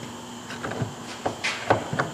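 Someone tries to open a locked door: a series of dull wooden clunks and rattles at an irregular pace, fairly close and moderately loud, with no talking.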